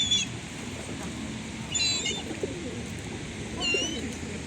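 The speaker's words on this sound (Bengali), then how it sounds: "বাক বাকুম, বাক বাকুম, বাক বাকুম পায়রা" Pigeons cooing in Amsterdam while being fed, several soft, near coos in separate bursts over a low background murmur.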